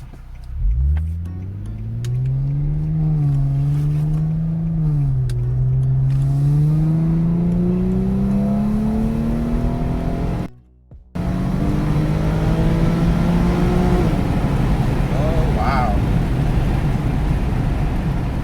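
An Infiniti G37 sedan accelerates hard in DS mode, the engine note climbing through the revs with rising pitch and dipping briefly at each gear change, loud and close from inside the cabin, with a short dropout partway through.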